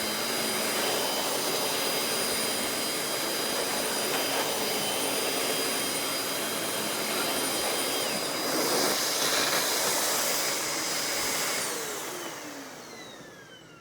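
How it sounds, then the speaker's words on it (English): A Hoover Windtunnel Anniversary Edition S3670 canister vacuum with power brush runs steadily and loudly with a broadband whine, its pitch shifting briefly near the end as the motor winds down. "I hope you've enjoyed the review and house cleaning of the Hoover Windtunnel Anniversary Canister."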